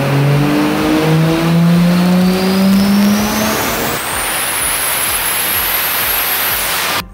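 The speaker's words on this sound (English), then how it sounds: "If it is an Oversquare engine, it sounds like a Ferrari." An oversquare engine revs up like a Ferrari, its pitch climbing steadily and then holding at a high, loud scream over a noisy, hissy background before cutting off abruptly at the end.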